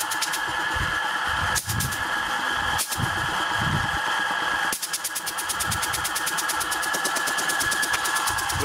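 A small air compressor driven by a slow three-phase electric motor chugs steadily with a fast rhythmic knocking, close and loud, running continuously without pause.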